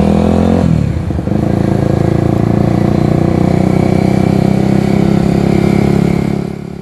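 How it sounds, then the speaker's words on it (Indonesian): A Kawasaki Ninja Mono single-cylinder motorcycle with a BB Killer exhaust revs hard, a loud, close, continuous engine roar that rises sharply in the first second and holds steady with clattering exhaust rasp throughout. "bacot suara mesin dari Ninja Mono ini memang gede banget"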